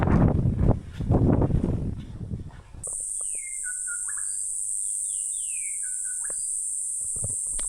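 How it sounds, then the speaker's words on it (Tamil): On an Australian island, after a burst of rustling and footsteps, birds call with short descending whistles over a steady high insect drone, fairly close. "பறவைகள் சத்தம் கேட்குதா?"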